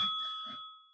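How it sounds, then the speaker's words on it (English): A single bell rings once with a clear, bright ding, then the tone rings on and slowly fades over about a second, close and alone. "Please ding the bell."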